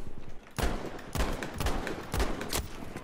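Gunfire in the video game Battlefield 5: three loud, close bursts of rapid shots, each cutting off sharply, with game ambience between them and no talking.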